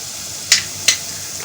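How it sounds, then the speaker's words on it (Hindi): White cumin seeds tossed into softened onions in a pan, giving two sharp bright sizzling bursts about a third of a second apart over a quiet background hiss. "अब हम इसमें सफ़ेद ज़ीरा शामिल करेंगे।"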